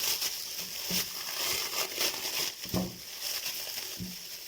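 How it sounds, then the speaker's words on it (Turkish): A plastic bag full of raw meat being opened in a kitchen, with close, crinkly rustling and crumpling that comes in irregular bursts. "Et dolu poşeti açıyoruz."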